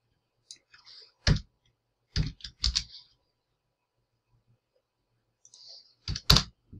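Computer mouse clicks come while downloaded files are saved, heard as a few sharp, close clicks in small clusters separated by silence, with faint keyboard-like taps in between.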